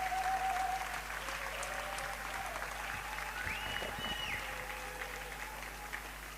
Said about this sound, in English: So please give a big applause again for all our logistic team members.